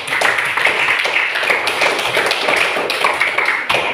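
Loud, close classroom applause from students, a bright, continuous clatter of many hands clapping together that carries on without a break and with no voices.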